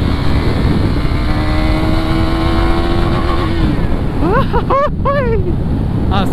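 A KTM Duke 200 NG motorcycle with 20,000 km on it accelerates hard, its engine note climbing in a loud, close whine, then bouncing off the rev limiter in rapid stuttering bursts near the end, with wind roar throughout.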